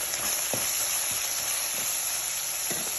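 Steady close sizzle of brinjal-biryani ingredients frying in a pan, with a few soft stirring scrapes over the continuous hiss; no one speaks.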